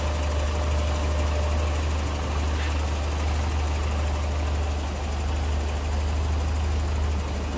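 A 1985 Toyota Celica GT-S's 2.4-litre fuel-injected 22RE engine idles smoothly and continuously, a low, even hum with a faint mechanical ticking throughout and no voices.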